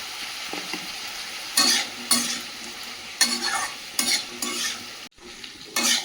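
Vegetables seasoned with salt and turmeric sizzle steadily in a pan while a spoon scrapes and stirs them in several distinct bursts, close and fairly loud.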